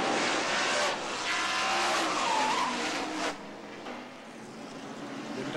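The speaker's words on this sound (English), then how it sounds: "Gave him a little bit of a tap and around Lake went down to the inside retaining wall" A Ford Thunderbird stock car at the 1994 Goody's 500 is tapped and spins into the inside retaining wall, its tires squealing loudly for about three seconds before the noise drops away to distant race-track ambience.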